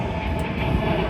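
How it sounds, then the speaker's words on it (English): An airplane passes overhead, a steady, loud, broad roar filling the whole moment with no voices over it. "We're going to get a plane going over"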